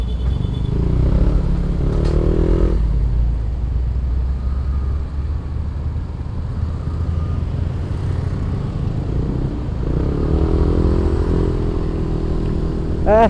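Steady roar of engines in congested traffic on the road to Puncak, with motorcycles revving and overtaking close by and a rising whine near the end.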